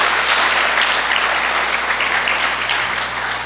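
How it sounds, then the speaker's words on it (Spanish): Church congregation applauding steadily and loudly throughout, a dense sustained clapping with no speech over it. "puedes darle un aplauso al Señor"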